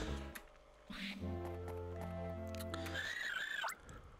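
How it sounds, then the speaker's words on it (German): A Pokémon cry in Pokémon Ranger rings out as a short, high, squealing call with a sliding pitch, heard alone over brief tonal game music. "Hast du das gehört? Das war der Schrei eines Pokémon."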